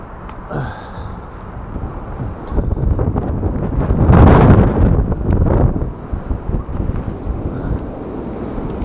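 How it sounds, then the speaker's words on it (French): Strong wind gusts buffet the microphone beside a lake during winter pike fishing with lures, a steady roar swelling into a louder, rumbling blast midway before easing back. "Là on est en plein vent."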